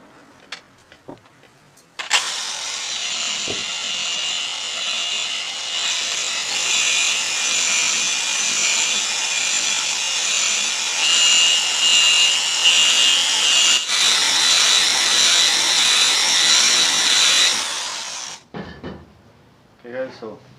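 A buffing polisher runs at its lowest setting, working rubbing compound into the scratched paint of a BMW 750i; a steady, close, continuous whirring and rubbing drone holds for about fifteen seconds, starting and stopping abruptly, with no voices.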